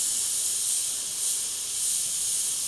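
An airbrush sprays paint in a continuous, close airy hiss that swells and eases slightly as the coat is laid along an edge, with no voices.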